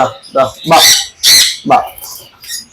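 Tame pet birds kept in a cage let out a series of loud, harsh squawks, several close calls in quick irregular succession.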